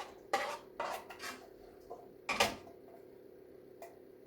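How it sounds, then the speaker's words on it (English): A spoon scraping and knocking against a pot and plastic containers while leftover vegetarian chilli is portioned out, a few sharp clinks and scrapes spaced apart in a quiet kitchen. "I'm just going to spoon out what's remaining into the containers"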